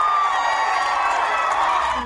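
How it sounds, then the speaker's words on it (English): A crowd gathered outside a courthouse after a murder verdict roars with sustained cheering and whoops, a dense wall of voices that stays loud and steady throughout. "Crowds gathered outside the courtroom reacted with wild cheers and applause."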